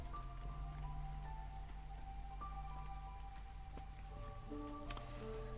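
Drizzle falls in the Against the Storm settlement-building game as a faint, steady patter of light rain, with soft tonal game chimes under it.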